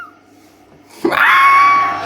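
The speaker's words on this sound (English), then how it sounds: "There were screams of terror, screams from the mud creatures who were running back to where they came from the mud" A sudden loud, sustained high-pitched scream rises after a quiet start and holds steady to the end, standing for fleeing mud creatures shrieking in terror.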